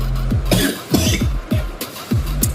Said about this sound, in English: having a lot of coughs because my water is a bit weird for today